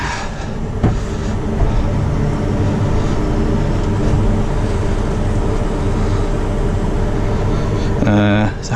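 A Kramer KL60.8 wheel loader fitted with a large Cherry Products bucket runs steadily up close, its engine a continuous loud drone with a brief clunk near the start and a rattle toward the end.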